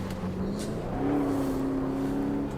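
Racing car engine in the Automobilista 2 sim, a steady close drone whose pitch climbs as the revs build and holds high for over a second before easing, with no talk over it.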